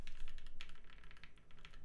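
Typing on a Viendi 8L mechanical keyboard, with rapid, continuous keystrokes in a close, dense clatter and no voices over it.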